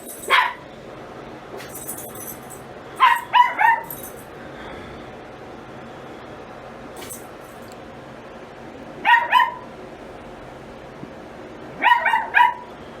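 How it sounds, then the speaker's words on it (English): A dog named Ella barks in several short bursts, a few quick woofs at a time with quiet gaps between them, fairly close over a low background hum. "it's just Ella barking"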